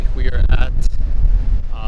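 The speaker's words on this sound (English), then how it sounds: "It is so windy" Strong wind at Artinb beach buffets the microphone with low rumbling gusts, loud and continuous, while a person speaks over it.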